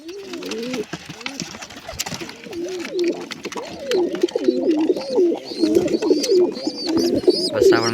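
A pair of pigeons coo close by in soft, rolling, repeated calls that continue through the whole stretch and grow slightly fuller toward the end, with a voice faintly audible at times.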